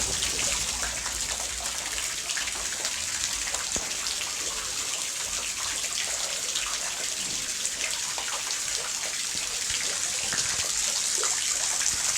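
Water trickling steadily into a garden fish pond among flowering plants, a continuous close, fine splashing patter with no pauses.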